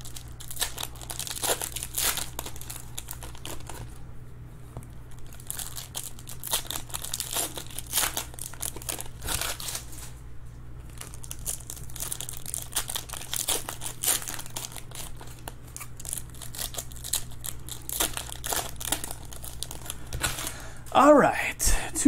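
Sealed boxes of 2019 Panini Certified Football trading cards are torn open and their wrappers crinkled in a long run of close crumpling and tearing, under intermittent talk.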